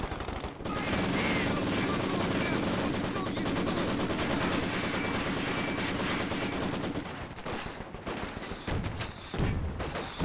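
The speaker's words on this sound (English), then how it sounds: "Sniper's taking a big old burst of bar fire there" Sustained BAR automatic rifle fire in a Company of Heroes 2 battle, a dense continuous rattle of bursts lasting most of the stretch, with scattered battle noise and a brief lull near the end.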